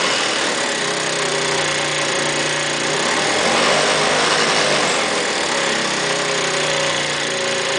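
An SR50 scooter engine runs during a fuel pressure test, a loud, steady buzzing drone close by that swells slightly midway as the throttle opens a little, with no speech.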